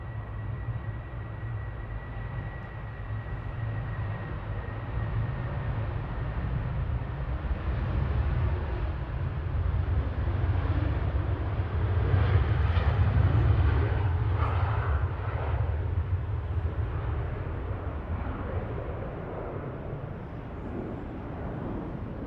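Ryanair Boeing 737-800 bound for Verona at Manchester Airport, its engines a fairly faint, low rumbling drone that swells toward the middle and eases off again, with no talk.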